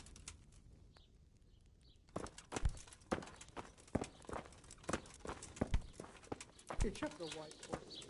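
Horse hooves clip-clop on the ground in the medieval role-playing game Kingdom Come: Deliverance. After a quiet start, the strikes fall in an irregular walking rhythm and sound fairly close. Faint birdsong sits in the background.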